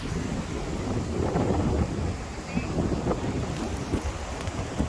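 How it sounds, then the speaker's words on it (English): Strong wind on a windy day roars and buffets a microphone outdoors in a continuous rumbling wash that swells and eases over a few seconds, with no voices. "Pretty windy."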